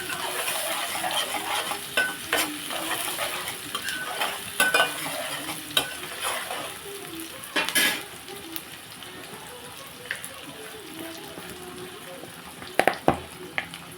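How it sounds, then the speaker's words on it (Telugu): Egg fried rice with green chilies stir-fried in a pan: a steady sizzle runs throughout, broken by occasional scrapes and clinks of the stirring utensil. "మనం కొద్దిసేపు ఇది ఫ్రై చేసుకుందాం"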